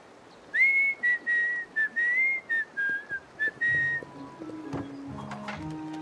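A person whistles a wavering, tune-like melody in a run of short and longer phrases, close and clear, then stops. A low hum and faint tonal sounds follow.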